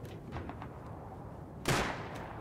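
A single sharp gunshot cracks out in the survival video game Rust, landing a headshot kill; one loud broadband burst near the end, with low game ambience and faint clicks before it.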